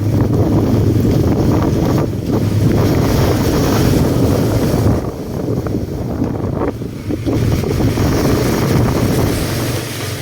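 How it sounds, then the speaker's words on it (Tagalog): Strong typhoon wind roars loudly and continuously against the microphone on a coast, buffeting in gusts with a short lull midway. "Grabe, lakas ng hangin."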